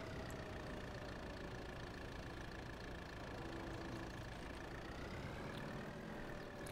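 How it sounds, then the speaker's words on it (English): A small Kubota tractor engine idles in Farming Simulator 22, a steady mid-pitched hum holding evenly throughout with no voices over it. "I feel like this Kubota is a very nice small tractor for doing this with."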